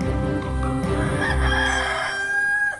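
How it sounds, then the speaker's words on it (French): A cartoon rooster crows at a countryside farm, one loud sustained cock-a-doodle-doo with bright, wavering tones filling the whole moment, close and alone. "J'ai eu de la chance qu'il ne me réveille pas, ce fichu coq."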